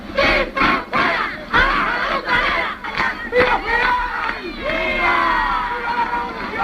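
A growing crowd outside the United States interests section taunts and shouts at people who took refuge inside, a dense, agitated mass of overlapping yelling voices with sharp bursts rising and falling throughout, loud and close.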